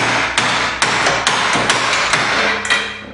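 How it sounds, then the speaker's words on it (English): Repeated sharp metal hammer blows on the steering spindle of an EZGO TXT golf cart, about eight strikes in a steady rhythm, close and loud with a clanging ring. "hit it with the hammer"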